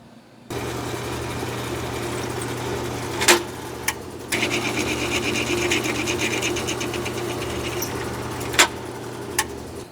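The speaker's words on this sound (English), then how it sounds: "All right, let's drill them out." Drilling holes in a metal piece while building a front-mount HEI distributor for an LS 5.3 engine: a steady machine whir runs throughout, with a brief stop near the middle and a few sharp clicks.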